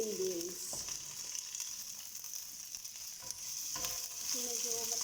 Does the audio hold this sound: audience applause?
no